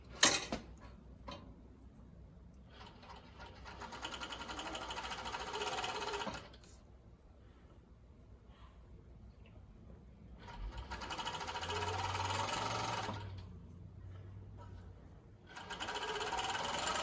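A Jack W4 cover stitch sewing machine runs through lycra stretch fabric in three bursts of rapid mechanical stitching, separated by quiet pauses.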